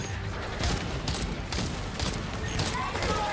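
Rapid gunfire from dual pistols against dinosaurs in ExoPrimal, a busy run of repeated sharp shots under continuous excited talk.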